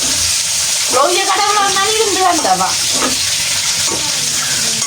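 Food frying in a pan, a loud continuous sizzle with stirring and scraping underneath, while a voice speaks briefly over it partway through.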